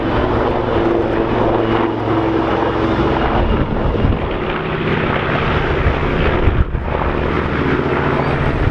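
A North American B-25 Mitchell flies a display at the Bournemouth Air Festival 2016. Its piston engines make a loud, continuous drone that holds steady, with a brief dip near the end.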